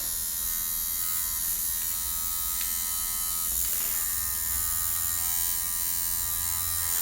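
A tattoo machine buzzes steadily throughout, a continuous close electric hum with no pauses, while a traditional-style USMC devil dog tattoo is being done.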